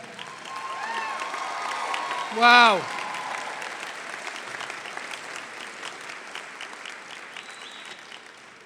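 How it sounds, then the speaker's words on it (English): Auditorium audience at a college graduation ceremony applauding steadily, with a brief loud whistle-like swoop partway through and a voice exclaiming once, the clapping continuing at a moderate distance. "Give them a round of applause again."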